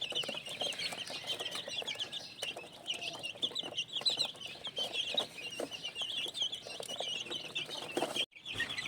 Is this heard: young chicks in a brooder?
yes